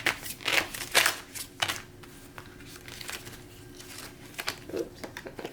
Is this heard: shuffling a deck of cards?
yes